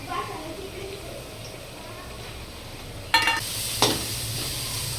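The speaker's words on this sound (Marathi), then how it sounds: "तो कांदा होता कट करून टाकलेला, हा तेलात फ्राय करायचा." Chopped onion frying in oil, a steady soft sizzle with a couple of louder stirring scrapes near the end, under talk.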